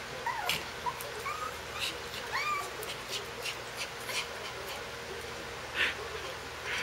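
A fluffy puppy begging for food gives a series of high, thin whimpers and whines, brief cries scattered irregularly over a quiet indoor background, fairly close.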